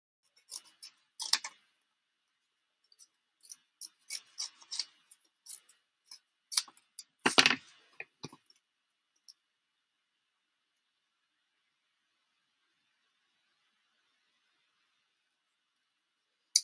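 Scissors snipping around stamped paper cardstock during a card-making session, a scatter of short crisp cuts in irregular bursts over several seconds, then quiet; no talking.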